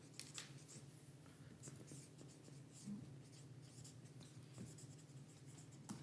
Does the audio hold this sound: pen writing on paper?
yes